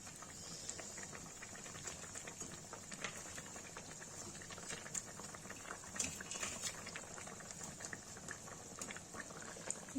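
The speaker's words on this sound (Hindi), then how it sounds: "उबाल आ रहा है" Spinach kofta curry gravy boiling in a pot, a steady low bubbling and popping with a constant simmering hiss, close and fairly quiet throughout.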